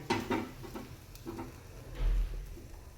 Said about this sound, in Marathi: आता आपण कांद्यांबरोबरच अद्रक पण छान भाजून घेत आहोत